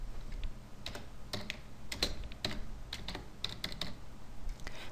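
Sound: typing on a computer keyboard

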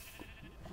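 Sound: sheep bleating in Minecraft video game

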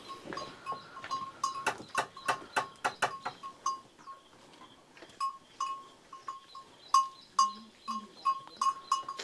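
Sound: goats

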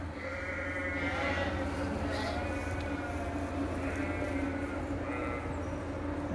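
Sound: sheep bleating at farm trough

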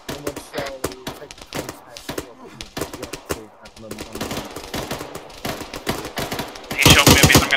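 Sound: gunfire in a shooting game

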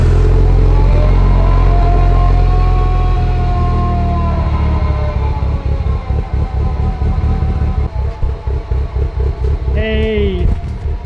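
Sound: tuned car engine starting and idling

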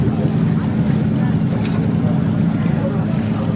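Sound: ship sailing past on the Bosphorus

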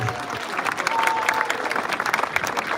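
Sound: audience applause

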